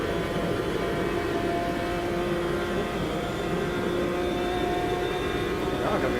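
Race car engine held against the rev limiter at Bathurst in Automobilista 2, a loud, steady buzzing drone with a sustained whine that stays at constant pitch and level throughout.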